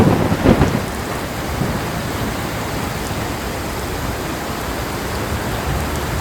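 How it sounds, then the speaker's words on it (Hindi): Torrential overnight rain pours steadily in the mountains of Uttarakhand, a dense, even roar held at constant loudness, with a brief rumble of thunder near the start. No voices. "भाई मूसलाधार बारिश हो रही है"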